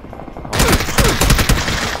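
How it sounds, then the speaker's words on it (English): A rocket launcher fires in the PUBG shooter game. A sudden loud blast opens into a dense, crackling barrage that fills the rest of the moment, close and harsh. "Dude, my rocket launcher didn't do anything."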